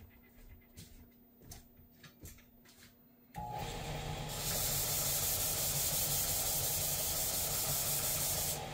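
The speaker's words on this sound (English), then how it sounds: "I'm just going to flatten this out in the belt sander." After a few light scraping handling sounds, a belt sander switches on abruptly to flatten an AIWB holster part for a Ruger American pistol with a TLR-1 light, then runs as a loud, steady abrasive roar.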